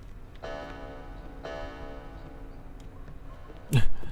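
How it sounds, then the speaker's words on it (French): Pendulum clock in the game Hitman: Blood Money ticking: two slow, resonant chimes or ticks about a second apart with a ringing tail, then a sharper, louder knock near the end, heard alone with no talk. "Avec le son de la pendule qui va bien."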